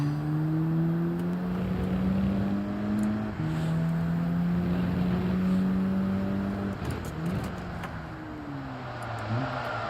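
Car engine in Gran Turismo 7 on a slightly wet track, a steady loud drone with rising tones through the gears, dipping and climbing again as the car brakes and accelerates over several shifts.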